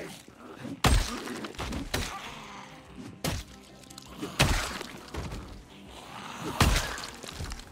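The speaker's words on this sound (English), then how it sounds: "Cracking a zombie in the head with a fire axe." Fire axe striking zombies' heads in Project Zomboid, a series of sharp, heavy thwacks with cracking impacts spaced about a second apart, loud and close, with quieter rustling between hits.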